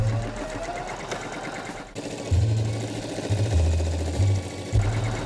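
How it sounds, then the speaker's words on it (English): A sewing machine stitches through a couple of layers of book-page paper with black thread, a close, steady mechanical whirring and chattering that pauses briefly and then resumes in uneven runs. "What we're going to do is freeform a flower on the sewing machine."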